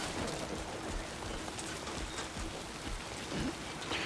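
Steady rain falls in the Death Stranding 2 video game, an even, continuous hiss of drops with no voices over it.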